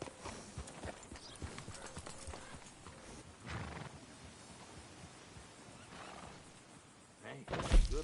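Hooves clip-clop steadily on a path in a video game with a stable and fishing setting, near and fairly clear, with a louder burst near the end and faint game ambience underneath.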